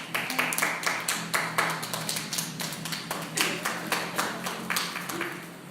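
A church congregation claps in a lively, uneven rhythm, a close mix of many hands with sharp individual claps standing out above the crowd's patter.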